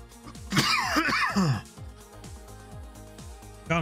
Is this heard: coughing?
yes